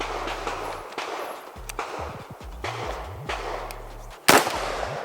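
KRISS Vector Gen 3 firing Hornady Critical Defense ammunition at a range, with a few sharp reports and one loud close crack near the end over steady background noise.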